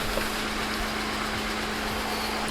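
A VAZ 2107 engine idles just under 1000 rpm under full electrical load, with lights, heater and tail lamps on, giving a steady low hum with a constant drone and no speech.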